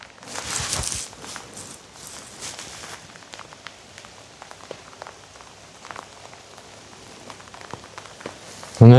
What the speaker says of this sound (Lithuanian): Nu nežinau, lietaus garsai,